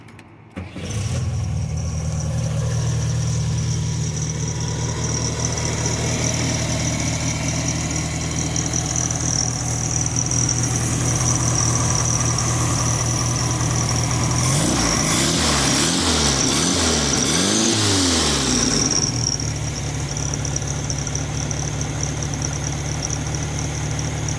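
A 1970 VW Beetle engine runs steadily at idle as it warms up, a loud continuous near rumble with a brief burst of revving or rattling partway through before settling back to an even idle.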